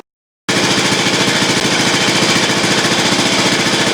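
After a short silence, a Reo engine with a newly repaired carburetor kicks into a loud, steady run of rapid, even chugging pulses, heard alone and close.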